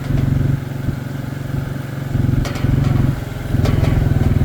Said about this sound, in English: Just push it along with the four-wheeler.